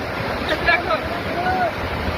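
Floodwater rushes in a steady, loud roar during a sudden cloudburst downpour, with a faint voice briefly audible over the constant churn.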